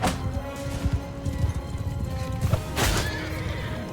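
A horse whinnies amid battle in the video game Mount and Blade II: Bannerlord, loud and close, over thudding hoofbeats and clashing impacts in a busy cavalry melee.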